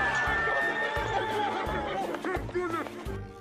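A horse whinnies loudly, its neigh mixed with crowd chatter, hoofbeats and a rhythmic music bed in a dramatic film scene.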